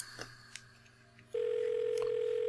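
A telephone call is placed in the point-and-click adventure game Blackwell Deception. A few faint clicks are followed by a steady, continuous electronic line tone that holds at an even level, with no talking.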